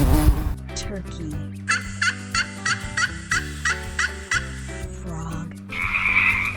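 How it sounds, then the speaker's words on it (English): A turkey gobbles in a series of short, evenly spaced bursts set over a steady musical backing from a children's animal-sounds nursery rhyme, closing with a louder final call. "turkey"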